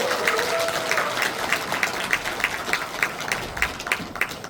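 Applause at an outdoor political rally in Cheongju, with a crowd clapping steadily and evenly throughout, moderately close, with a faint voice briefly audible at the start.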